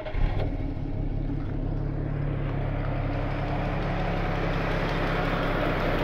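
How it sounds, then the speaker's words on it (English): A 1970-1972 Austin Kimberley X6 idles in neutral, its engine giving a steady, smooth low rumble that stays even throughout and is heard up close with no one speaking. "I'm going to start the engine just so you can hear it under here."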